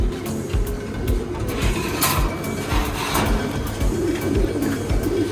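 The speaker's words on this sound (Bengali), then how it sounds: "এটা বাঘা সবুজ গলা কবুতর" A Bagha green-neck pigeon coos in low, repeated throaty pulses over a constant hum of nearby engine and traffic noise.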